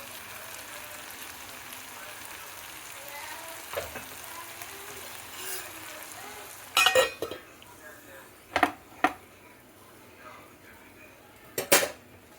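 Green moong dal curry frying in a pan, with a quiet, low sizzle underneath and several sharp metallic clinks and scrapes of a spoon stirring against the pan, spaced apart.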